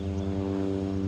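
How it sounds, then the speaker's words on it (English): A steady, droning hum from a propeller plane flying overhead near Ogle Airport, continuous and moderately loud throughout the short moment. "That's a plane, probably from Ogle, flying over the land"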